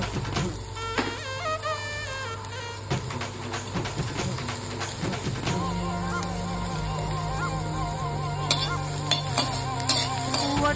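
Green chilli fries in a pan for fried rice, a soft continuous sizzle with scraping and clinking stirring strokes. Background music with a melody plays throughout.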